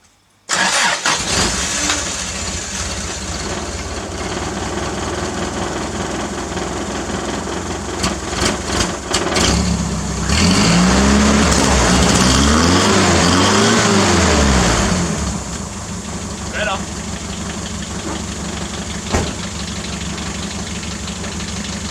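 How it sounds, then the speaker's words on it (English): A Toyota 4Y engine in a 1986 Hilux fitted with a homemade exhaust cranks, catches and settles into a steady, loud idle, with a brief revving surge midway before dropping back to idle, close up with no talking. "a sick as exhaust from stuff I had lying about."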